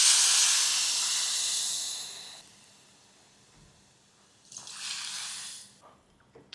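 Water poured into a pot of urad dal in a kitchen makes a steady bright hissing splash for a couple of seconds, then a pause and a second shorter pour.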